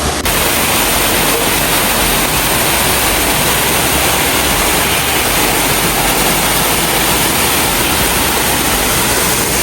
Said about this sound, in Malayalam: നല്ല അടിപൊളി വലിയ വെള്ളച്ചാട്ടം.